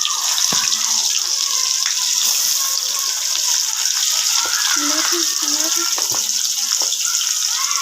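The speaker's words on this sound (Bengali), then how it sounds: "এই গরম তেলের মধ্যে আমি কালো জিরে ফোড়ন দিয়ে দিলাম" Black cumin (nigella) seeds sizzle as they hit hot oil for a Bengali katla fish curry, a steady bright hiss of frying with a few soft clicks and crackles, close and continuous throughout.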